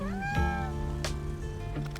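A cat meows close up, one long drawn-out harmonic call that rises and then falls, followed by a shorter second meow.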